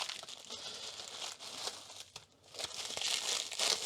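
A plastic bag or envelope from a parcel of solder-related mail is handled and opened, with continuous close, fairly quiet crinkling and crumpling that swells louder toward the end.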